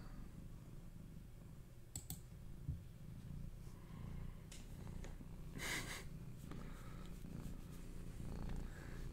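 A pet cat purrs loudly and close by in a quiet room, a steady low rumble running throughout, with a few sharp clicks and taps from handling cards or a keyboard scattered over it.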